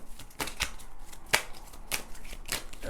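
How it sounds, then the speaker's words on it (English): A deck of tarot cards is shuffled by hand, giving a series of crisp riffling and snapping bursts at uneven intervals, close and fairly quiet, with no talking. "I'm going to shuffle these cards"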